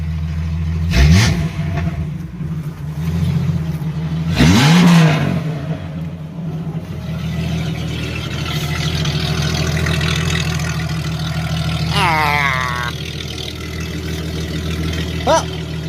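A Jeep ZJ fitted with a new exhaust is started and revved in a couple of sharp bursts, then settles into a steady idle with another brief rev near the end, heard up close.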